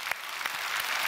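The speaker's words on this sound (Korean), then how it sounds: "하나님께 감사 박수 합시다" A church congregation claps together in steady, moderately distant applause, with a few sharper claps standing out from the even patter.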